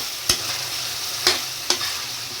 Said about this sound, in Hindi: अब मशरूम डाल रहे हैं। मशरूम डाल के अच्छे से मिक्स कर लेंगे